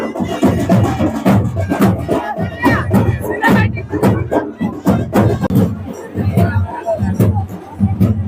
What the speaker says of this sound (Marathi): इथे गर्दी जमलेली आहे भाविकांची।